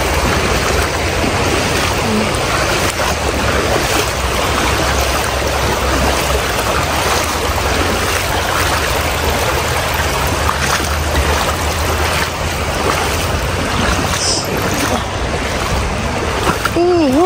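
A mountain stream flows steadily with continuous rushing, splashing water close by, lasting throughout, with faint voices and occasional splashes mixed in.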